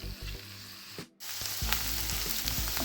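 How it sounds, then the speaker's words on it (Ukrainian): Steady sizzling of mushrooms frying in oil in a pan over medium heat, with a brief drop near the start before the crackling hiss resumes and continues evenly. "Смажимо на середньому вогні."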